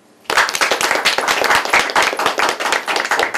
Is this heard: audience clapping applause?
yes